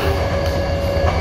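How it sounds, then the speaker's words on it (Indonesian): A Commuter Line electric train rolls through an Indonesian station with a loud steady rumble and a sustained high whine or squeal. It sounds close and fills the whole short stretch. "Kereta api Commuter Line"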